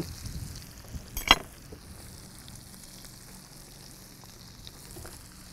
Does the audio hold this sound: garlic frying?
yes